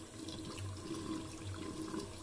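Water runs from a tap at a sink as a shaving brush is wetted, a steady close hiss and splash throughout with no talking.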